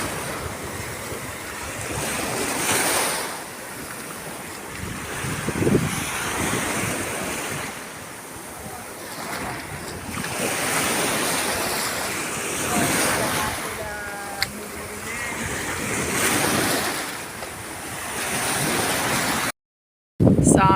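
Sea waves wash in and out on a wide, free public beach in Italy, a steady surf roar with heavy wind buffeting the microphone and a brief gap near the end.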